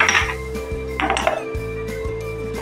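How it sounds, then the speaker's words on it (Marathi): A lid set down on a pot of peanuts boiling in salted water on a gas stove, giving one or two close metallic clinks over a steady low hum, with no talking. "झाकण ठेवूया"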